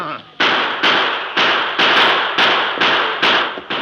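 About eight sharp gunshots ring out in a radio drama shootout between bank robbers and pursuers in a Western setting. The loud cracks come in a quick, evenly spaced volley, and each one decays briefly before the next.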